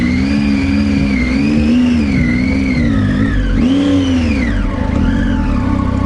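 A motorbike pulls away from a plaza in Ajo, Arizona, its engine loud and close, pitch rising and falling through several revs and gear changes over a few seconds.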